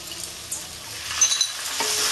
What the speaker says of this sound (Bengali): এটা আমি আবার সুন্দর করে কষতে থাকবো